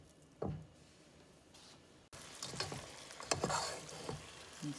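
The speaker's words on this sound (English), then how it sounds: "And the onions are cooking, the meat's cooking, all the seasonings are mixing." Ground meat, onions and seasonings sizzle in a pot for one-pot chili, a soft frying hiss broken by scraping stirs, growing louder and busier in the second half.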